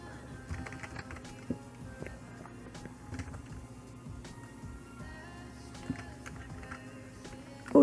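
Keys on a computer keyboard tapped in short, irregular clusters while a password is entered on a Linux virtual machine, fairly close and light, with a low steady hum underneath and no talking.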